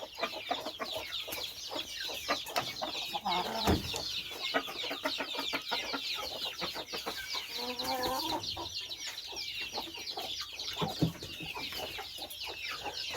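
A crowd of chickens cluck and chatter continuously, dense overlapping calls from many birds close by, steady throughout.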